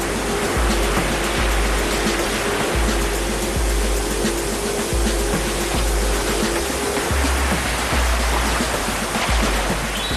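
River rapids rush loudly and continuously, a dense unbroken roar of churning water close by, with no voices.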